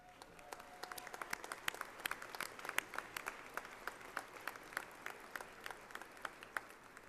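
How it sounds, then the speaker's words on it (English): A commencement audience at a university graduation ceremony applauds the cum laude graduates, with fairly light, scattered clapping and distinct individual hand claps popping out steadily across the whole stretch. "Let us recognize the achievements of these students with a round of applause."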